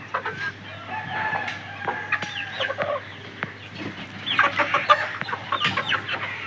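Chickens at a small egg-laying hen farm cluck and squawk in a busy, overlapping chorus, growing livelier toward the end, with a rooster crowing briefly among them and no voices.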